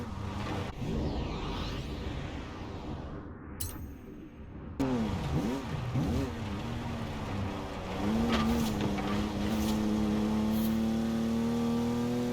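Jaguar E-Type engine in Forza Horizon 4 revving up through rising, sweeping pitch, loud and close, with a whoosh early on and a sustained high drone toward the end.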